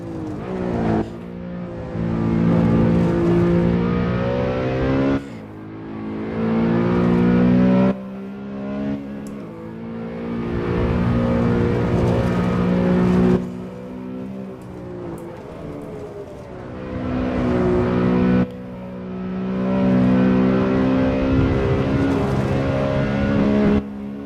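Sabine Schmitz's Ring Taxi driven hard on the wet Nordschleife, its engine loud and close from inside the cabin, revving up in long pulls and dropping sharply at each gear change across repeated surges.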